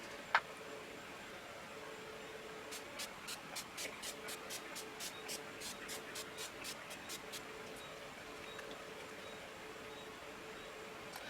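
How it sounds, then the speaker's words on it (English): Maven Beauty Rose Water Setting Spray misted onto the face gives a steady run of about fifteen quick, faint, soft spritzes, close but quiet against a low hiss. "today what I used was the Maven Beauty Rose Water Setting Spray"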